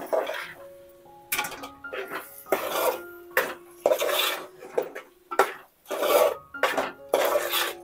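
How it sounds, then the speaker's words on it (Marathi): Prawns and potatoes go into masala in a pot for prawn biryani: a run of close scraping and clattering bursts of a metal spoon against the pot, some with a brief metallic ring. "आता ते बटाटे टाकल्यानंतर आपण या सगळ्या मसाल्यामध्ये कोलंबी ऍड करून घेणार आहोत"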